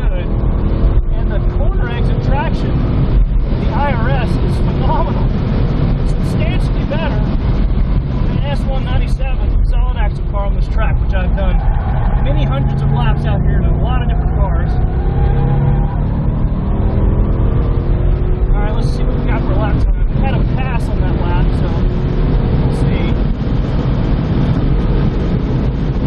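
A 2015 Ford Mustang with independent rear suspension lapping a race track, its engine droning continuously and shifting in pitch through corners and straights, with someone talking over the motor throughout.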